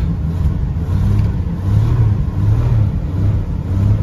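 A 1980 Chrysler Cordoba LS engine runs just after starting, a loud, close, low rumbling idle that surges and dips slightly in an uneven rhythm, with no talking over it.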